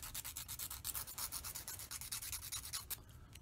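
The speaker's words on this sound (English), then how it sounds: "So just a tiny amount of sanding on that." Sanding a small metal part for a marksman medal, where the edge could catch a ribbon: a quick run of rhythmic, scratchy strokes, close and steady, ending abruptly near the end with no voices.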